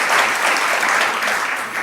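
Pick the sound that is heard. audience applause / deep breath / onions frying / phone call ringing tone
audience applause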